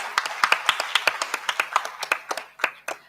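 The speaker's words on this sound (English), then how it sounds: "A round of applause." A small audience at a school mental wellbeing event claps, with sparse, distinct individual claps forming an irregular patter that thins out over about three seconds.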